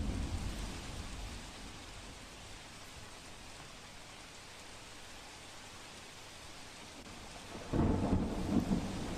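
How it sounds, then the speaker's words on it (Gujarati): Heavy downpour with thunder in the Patan–Siddhpur area of Gujarat: a steady broadband wash of rain continues throughout, and a louder low rumble swells in near the end. "પાટણ સિદ્ધપુર પંથકમાં ધોધમાર વરસાદ, અવિરત વરસાદથી નદી નાળાઓ છલકાયા છે"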